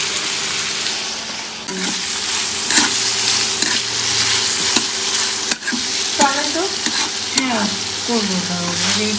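Food, with onions involved, fries in a pan at home with a loud, continuous sizzle and occasional stirring clinks. A brief voice-like sound rises near the end.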